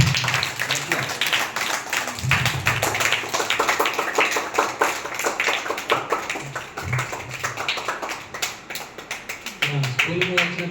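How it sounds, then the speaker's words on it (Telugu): Students clap together at a school event in a dense, continuous patter of many hands that runs for the whole stretch, with voices talking over it. "ఒకసారి క్లాప్స్"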